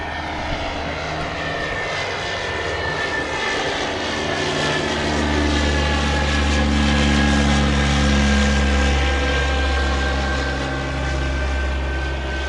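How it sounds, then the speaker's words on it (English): A propeller training plane departs Maryborough airfield on a circuit, its aircraft engine droning loud and steady throughout, swelling slightly as it passes with no voices. "Here's one of the training planes leaving Maryborough now."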